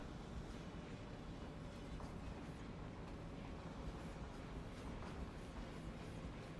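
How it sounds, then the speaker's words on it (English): A train passes in the rail-building video game Constracktion as a faint, steady broadband rumble that holds evenly throughout, with no talking. "Comes the train."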